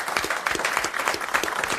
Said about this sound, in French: Applaudissements et mandats pour Madame Varin.